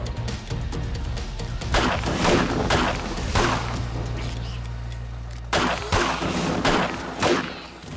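Repeated gunfire in the 7 Days To Die zombie survival game during a horde night, loud bursts of shots and impacts recurring every second or so over continuous dense game noise.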